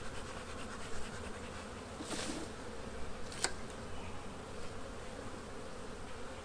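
Bees buzz steadily in a dense, continuous hum, close by, agitated by wildfire smoke, with a couple of brief scrapes or clicks along the way.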